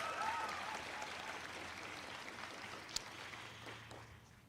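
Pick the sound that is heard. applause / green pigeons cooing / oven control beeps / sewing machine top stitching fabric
applause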